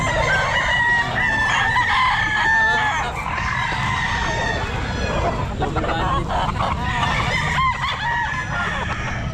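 Many gamecock roosters crow over one another at a busy pet market in Mt. Banahaw Grotto, loud, overlapping calls rising and falling across the whole stretch, with clucking and crowd noise underneath.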